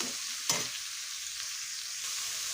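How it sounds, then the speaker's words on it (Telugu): Sliced onions frying in hot oil, a steady close sizzle with a brief scrape of stirring near the start and no voices. "ఆయిల్లోనైతే ఉల్లిపాయలను అయితే బాగానైతే ఫ్రై అయితే చేసుకోవాలి"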